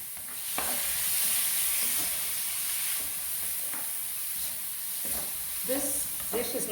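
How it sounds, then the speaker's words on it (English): Beef and vegetable stir fry hisses loudly and steadily in a pan, with occasional scraping and knocking from the stirring utensil, heard up close. "You're going to keep stirring until the meat is pale."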